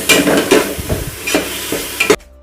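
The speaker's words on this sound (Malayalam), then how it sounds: "ഇതെല്ലാം കൂടി ഒന്ന് കഴുകി വെച്ച കറിവേപ്പില ഇതിലേക്ക് ഇട്ട് കൊടുക്കാം" Washed curry leaves drop into a hot pan of sautéed onion, tomato and ginger-garlic paste for fish biryani, followed by close scraping stir strokes over a steady sizzle that cuts off abruptly near the end.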